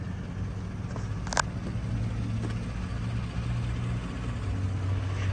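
A 2014 Chevrolet Silverado regular-cab short-bed V8 2WD pickup idles with a steady, quiet low hum and a faint tonal drone, broken only by a brief light click.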